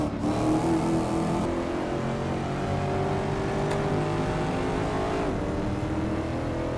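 A Corvette ZR1 engine revs hard behind a Dodge Challenger Hellcat Redeye, a loud continuous roar with steady acceleration heard from inside the car, mixed with road and wind noise.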